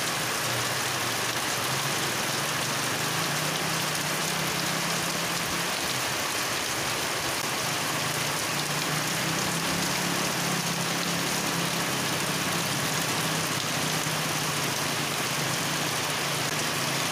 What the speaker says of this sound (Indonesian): hujan gede nih